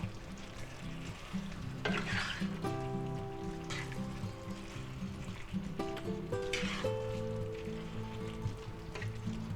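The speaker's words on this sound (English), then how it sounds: "we're going to stir this until our sauce is thickened up nicely." Pork stir fry sauce being stirred in a hot pan until it thickens: a steady low sizzle with soft scraping and stirring strokes, fairly quiet and continuous with no voices.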